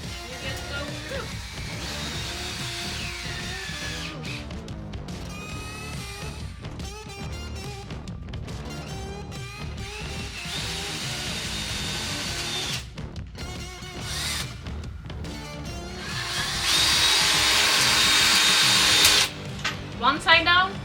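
A power drill drives screws into a wooden patio bench in repeated whirring bursts with short pauses between them, loud and close, ending in a longer, heavier run of the drill.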